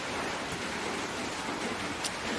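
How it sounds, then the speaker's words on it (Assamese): Light, steady rain falling without pause on an ordinary day, giving a soft, even hiss that fills the background with no speech or other distinct sounds on top. "আৰু সৰু সৰুকৈ পৰি থাকিলে যিটো বৰষুণ পৰি থাকে"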